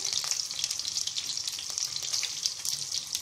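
Mustard seeds, chopped green chili and curry leaves sizzle and crackle steadily in hot ghee for a tempering, a continuous close, bright frying hiss with small pops and no voices.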